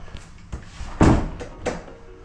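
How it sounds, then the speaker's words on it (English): A door swings shut with a solid thump, loud and close, followed by a softer knock, set against light background noise partway through a long overseas travel journey. "Shut the door."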